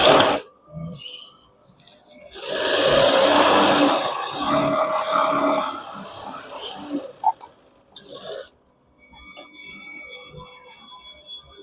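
A sewing machine stitches pant fabric with a run of steady mechanical whirring lasting several seconds, framed by brief clicks and handling sounds, with a voice talking before and after.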